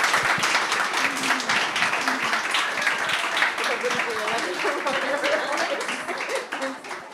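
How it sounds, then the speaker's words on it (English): Warm audience applause for panel speakers after a livestreamed conversation event, dense steady clapping throughout with crowd voices and chatter mixed in beneath it, tapering slightly at the end. "can you say a little bit of warm applause for these folks for this amazing conversation?"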